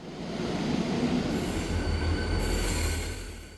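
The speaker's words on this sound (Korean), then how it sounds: "서울을 기준으로 서남쪽으로 내려가는 기차들은 대부분 용산역이 출발점입니다." A train at Yongsan Station in Seoul rumbles steadily past, close and loud, with a continuous low roar, rolling wheel noise and high metallic squeals rising over it, no voices.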